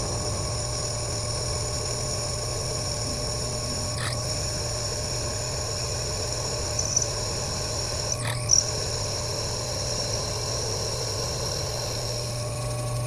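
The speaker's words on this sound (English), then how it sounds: "This actually feels like it's cutting pretty good. Pretty good drill bit here." A drill bit bores through metal during a golf cart build, giving a steady, droning whine with a constant hum beneath it and a couple of brief clicks partway through.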